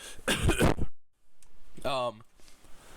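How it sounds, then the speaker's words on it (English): A couple of harsh, noisy coughs burst out close to the mic, followed by a brief silence and then a voice talking. "I have to cough"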